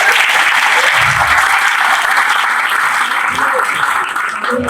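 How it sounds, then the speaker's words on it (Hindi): A school science fest audience gives a teacher loud, sustained applause, with dense clapping filling the hall throughout and tapering slightly at the end. "मैडम के लिए तालियां बजाइए।"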